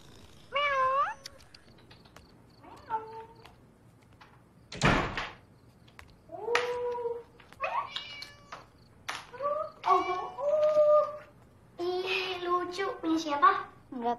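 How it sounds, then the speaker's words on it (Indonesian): A cat meows repeatedly and close by in a house setting from a horror film. Several distinct meows come over about fourteen seconds, along with a sharp door-like knock and some quiet voices. "Meow."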